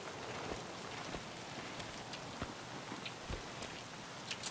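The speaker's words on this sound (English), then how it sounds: "Now it's starting to rain. There's weather effects." Rain falling in the Escape from Tarkov game world, a quiet steady patter of drops on surfaces with occasional louder nearby drips, faint and continuous with no talk.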